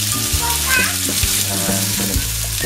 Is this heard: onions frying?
yes